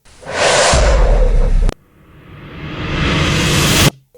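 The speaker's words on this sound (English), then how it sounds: "A whoosh, swoosh." Two back-to-back whoosh sweeps made as radio imaging effects: a loud, dense airy rush that cuts off abruptly, then a second swoosh that swells gradually in brightness and volume before stopping sharply.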